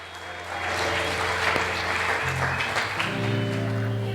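Congregation clapping steadily throughout a church worship service, a dense continuous wash of applause with music or sustained tones beneath and faint voices mixed in.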